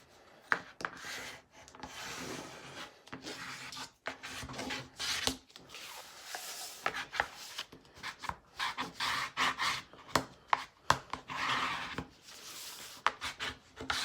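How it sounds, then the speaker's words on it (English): Crafting papers for a mini album are burnished down by hand, giving close, uneven rubbing and scraping strokes in irregular bursts with short pauses, moderately loud and without talk. "So the same thing, you are going to burnish all of it down."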